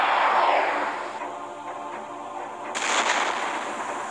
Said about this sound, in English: And they launched a missile at me.